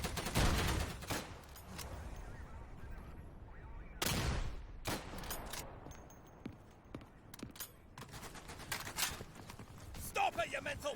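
Bren light machine gun firing in the World War II shooter Day of Infamy, loud sharp bursts and single reports spread across the scene amid chaotic battle noise, with voices shouting over the gunfire.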